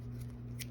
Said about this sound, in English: take your scissors and cut off any remaining yarn here